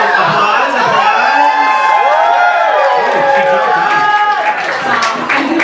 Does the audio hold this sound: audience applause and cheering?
yes